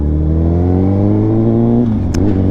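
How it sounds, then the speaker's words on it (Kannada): A 2018 Honda Fireblade SP inline-four exhaust drones loud and close inside a tunnel, a steady rising engine note that holds for a couple of seconds and then drops off as the throttle eases. "exhaust note ಕೇಳಿಸ್ಕೊಂಬಿಡಿ ಟನಲಲ್ಲಿ"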